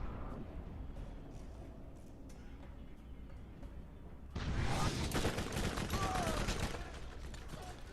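Quick-firing weapons in Borderlands let loose a dense burst of rapid gunfire that kicks in midway, loud and continuous over a low rumbling game backdrop.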